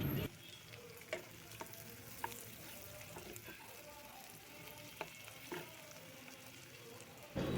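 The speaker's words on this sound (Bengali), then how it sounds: "হালকা শুকনো মরিচের গুঁড়া, হালকা হলুদের গুঁড়া দিয়ে কিছুক্ষণ নাড়াচাড়া করে নেব" Chili powder and turmeric sizzle steadily in hot oil in a pan during a Bengali hilsa fish curry, with occasional sharp clicks and scrapes of a spoon being stirred through, close and continuous with no talking.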